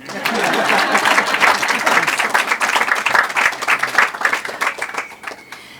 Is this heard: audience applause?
yes